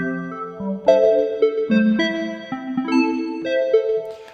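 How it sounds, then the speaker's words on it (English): Whipped cream keys, a soft lo-fi synth keys preset in Reason, play a slow sequence of mellow sustained chords, warm and smooth with gentle swells as each chord changes. "Next up here, we have the whipped cream keys that sound like this."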